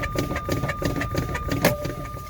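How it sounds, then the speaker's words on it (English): Parking brake knobs on a tractor-trailer cab pop out as air pressure is pumped down to about 20 to 40 PSI: a single sharp pneumatic pop partway through, close by, over steady cab and engine noise. "Brakes popped out."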